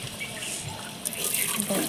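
Water poured into a cooking pot of rooster chicken being made as handi chicken, a steady splashing rush lasting about two seconds that grows a little louder midway, close by, with no talk.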